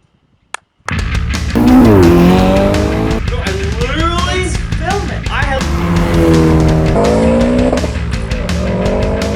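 A rally car roars past loudly, engine revving up and down through gear changes, with tires skidding on loose ground and excited voices shouting over it.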